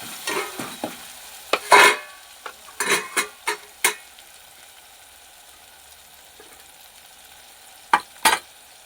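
Tomato and spice masala for baingan bharta frying in a pan, with scattered stirring scrapes and sizzling clicks: a cluster of sharp knocks early on, a few more in the middle, then two near the end over a quiet low sizzle.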